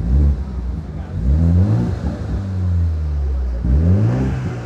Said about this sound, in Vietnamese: Tiếng bô cực kỳ lực anh em nhá